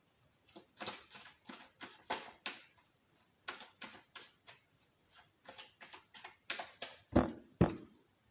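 Tarot cards being gathered and covered on a table, a run of soft quick papery slides and taps in short bursts, faint and close, ending with two sharper knocks.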